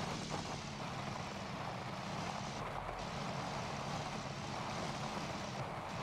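A steady, droning engine rumble runs continuously at moderate level, like a heavy vehicle cruising, with slight dips in the higher hiss partway through; a truck engine in the video game Gold Rush, its sound cutting in and out.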